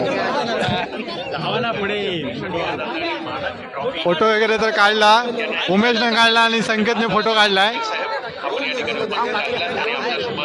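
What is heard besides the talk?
large crowd chattering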